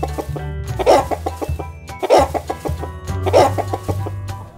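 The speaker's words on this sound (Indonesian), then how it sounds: "ayam. Chicken." A chicken clucks in three distinct bursts spaced about a second apart, fairly close, over a low background hum.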